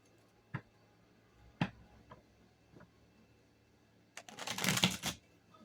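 A few sharp, scattered taps and clicks, then a brief rapid flurry of tarot cards riffling and snapping together, close up.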